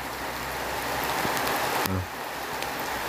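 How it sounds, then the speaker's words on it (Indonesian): Steady rain falls in a garden near a hut roof, a dense, even hiss of drops that lasts throughout, loud and close. "Nah, ini suasananya hujan."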